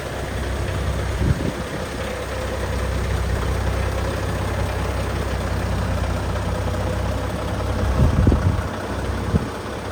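A big Scania truck engine idles and rumbles steadily up close with a deep low drone throughout, with a couple of brief louder revs or thumps near the start and again around the end, no talking.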